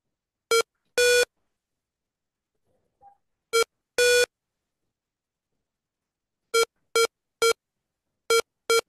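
Electronic beeps from a student's Python Pong game sound in clean, separate tones: a few single and longer beeps early, then a run of evenly spaced short beeps, with silence between and no talk.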